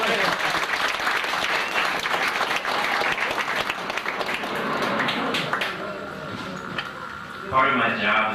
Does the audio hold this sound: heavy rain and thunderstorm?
no